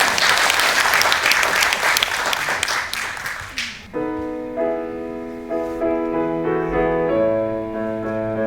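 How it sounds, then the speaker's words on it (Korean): Audience applause at a memorial ceremony, a dense burst of clapping lasting about four seconds that fades out as piano accompaniment begins to play. "큰 박수로 맞아주시기 바랍니다."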